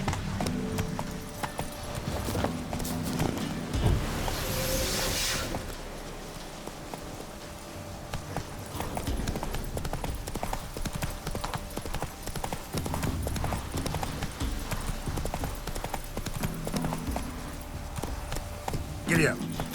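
Roach the horse's hooves clip-clopping steadily in The Witcher 3, a continuous gait under game ambience, with speech heard in places.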